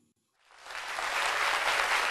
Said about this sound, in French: Recevons à présent avec une effervescence d'applaudissements Madame Assi Adio et Madame Afi Pauline